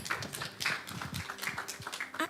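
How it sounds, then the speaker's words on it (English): Applause from the audience at a startup pitch competition grand finale, a steady patter of many hands clapping that comes up to the foreground and fades, with no talk over it. "A round of applause."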